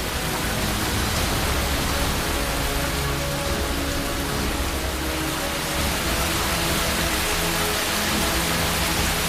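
Steady, dense rainfall in Cherrapunji, Meghalaya, a broad unbroken hiss of drops pouring down for the whole stretch, loud and close with no voices.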